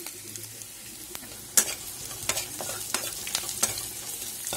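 Egg bhurji, salted scrambled eggs, frying in a pan with a continuous sizzle broken by repeated sharp spatula scrapes and taps against the pan, close by and with no voices.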